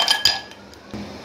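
Ice cubes are dropped into a glass of strained mint lemonade, making two or three sharp, close clinks against the glass followed by a quieter knock.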